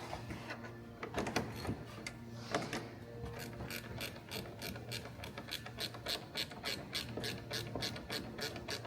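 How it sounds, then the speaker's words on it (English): Close, quiet clicking of a 10mm socket ratchet as a bolt is tightened on a Tesla Model X fender trim, a steady run of rapid pawl clicks that speeds up in the second half. "And then you want to use your 10mm socket and the bolt to secure"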